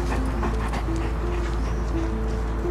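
A dog whimpers and gives faint yips against a steady, noisy indoor background hum, with the sounds low and partly masked.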